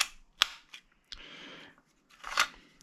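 Glock magazine release on a Henry Homesteader carbine being worked: sharp metallic clicks and snaps, a brief sliding scrape, then a louder rattling clack, all close-up with no talking.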